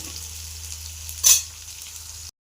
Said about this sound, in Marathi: कांदा आपल्याला भाजायचा याच्यामध्ये